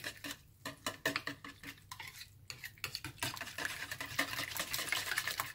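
A ricotta and egg mixture being stirred in a large bowl, with a spoon scraping and clinking against the sides in quick, close, irregular strokes that grow denser toward the end.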